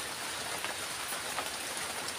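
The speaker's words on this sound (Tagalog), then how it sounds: "Malakas ang ulan." Heavy rain pours down steadily outdoors, a dense, even hiss that stays constant from start to finish with no voices over it.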